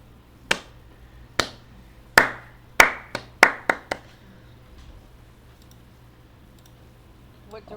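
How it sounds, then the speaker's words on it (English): Hands clap slowly in the post-apocalyptic game Year Zero, about eight sharp, echoing claps spaced unevenly over four seconds, then quiet with a faint hum. "you start hearing the sound of clapping hands"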